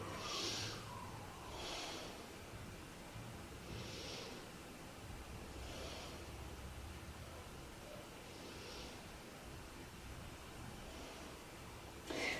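Deep, slow breathing during a yoga hip stretch, a series of roughly six soft breaths spaced about two seconds apart, heard close against a steady noisy background.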